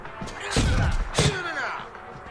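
Punches thud in the boxing video game Fight Night Round 4, with two heavy impacts about half a second apart over a busy, crowd-like background and faint voices.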